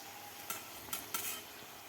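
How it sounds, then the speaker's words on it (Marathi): A green peas masala puri fries in hot oil with a quiet, steady hiss broken by three short bursts of louder bubbling sizzle. "दोन्ही बाजूने आपल्याला अशी ब्राऊन गोल्डन होईपर्यंत आपल्याला चांगली पुरी तळून घ्यायची आहे"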